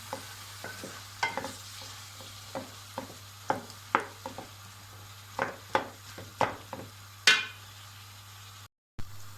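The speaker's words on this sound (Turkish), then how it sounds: "Evet arkadaşlar domateslerimi de biraz çeviriyorum." Tomatoes cook in a pan while being stirred, a quiet background sizzle punctuated by a dozen or so distinct clinks and scrapes of a utensil against the pan at irregular intervals, ending in a short silence.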